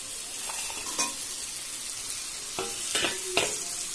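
Jaggery is stirred into a sweet-sour olive pickle in a pan, giving a soft sizzle with several scraping strokes and light clinks of the spoon, quiet and close.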